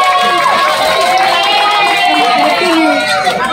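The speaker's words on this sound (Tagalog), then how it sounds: "Bakit hindi niyo po sabay-sabay hiyawan at palakpakan si Miss Jody Santa Maria?" A crowd cheers and shouts loudly and continuously for a contestant at a gay queen pageant, a dense, steady roar with voices mixed in.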